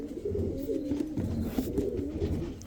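Pakistani teddy pigeons coo in low, throaty, rolling phrases close by, several overlapping calls running steadily through the moment.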